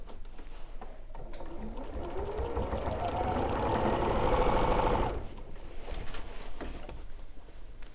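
A sewing machine stitching a flower show quilt, a fast mechanical whirr that builds to a loud run for several seconds and then stops, with a voice talking faintly underneath.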